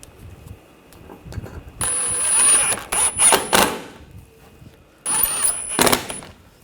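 Screws being run down by hand on a thermostat housing of a 2013-2022 Buick Encore, with bursts of close mechanical whirring and clicking separated by quiet gaps, and no voices.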